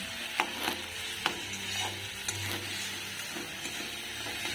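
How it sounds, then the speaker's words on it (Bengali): Spice paste for a capsicum crab curry is sautéed in a pan: a close, soft sizzle runs under repeated scraping stir strokes and light clacks of a utensil, with no voices. "তো মশলাটাকে আমি আরও একটু কিছুক্ষণ কষিয়ে নেব"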